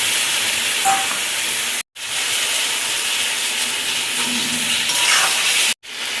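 Ginger, cumin, coriander, turmeric and salt fry in a pan for lemon fish curry, producing a loud, steady sizzling hiss broken by two abrupt cuts in sound.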